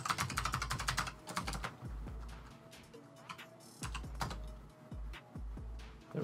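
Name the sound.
typing a password on a computer keyboard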